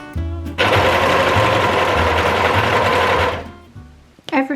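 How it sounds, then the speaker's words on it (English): An overlocker sews the side seams of pink flared trousers, a loud steady mechanical whirr running for about three seconds before it stops, with brief clicks around it. "And we're going to go and overlock these side seams."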